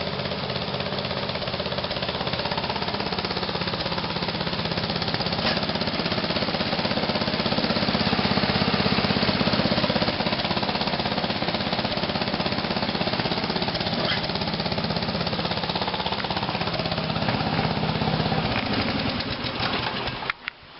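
Small MTD lawn tractor engine idles steadily after starting, a loud, even mechanical chatter that runs close up for the whole stretch with no talking.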